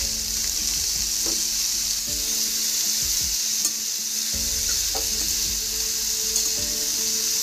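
Vegetables fry with onions in a pan for a Bengali pumpkin curry, giving a continuous hissing sizzle with repeated scraping strokes and knocks of a spatula as they are stirred, no voices.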